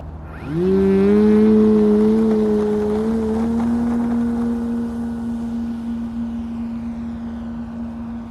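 A Hangar 9 Carbon Cub 15cc RC model airplane's small gas engine revs up sharply into a high, steady buzzing drone, loud and close at first and then easing slowly as it pulls away.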